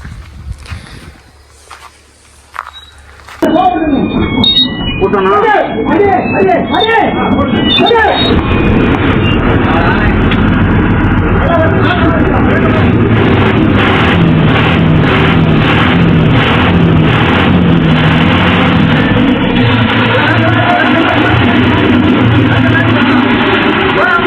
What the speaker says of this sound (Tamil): ரிவர்ஸ் கீரில் தாங்க போட்டு ஸ்டார்ட் பண்ணேன்